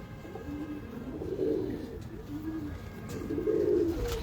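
A pigeon in a breeder's loft coos in two soft, throaty bursts of rolling, bubbling notes, close by and fairly quiet against a faint background.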